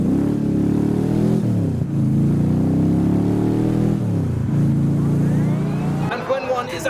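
A car launches hard at a crowded modified car meet, engine revving loud and close through several rising pulls and gear changes before the noise cuts off into crowd clatter.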